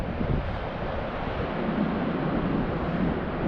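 Strong wind by the water buffets the microphone during a Mavic Mini drone flight, a dense continuous roar with steady rumble and no breaks; no voices.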